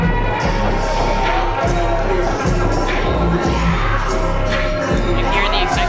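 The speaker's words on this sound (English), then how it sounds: "You hear the excitement from the crowd getting behind their tag team favorites here in Boca." A wrestling crowd in Boca cheers for its tag team favorites at an NWA versus BRCW event, a dense, loud, steady roar of shouting voices filling the arena without a break.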